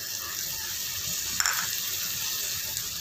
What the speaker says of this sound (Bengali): একটু ভেজে নিতে হবে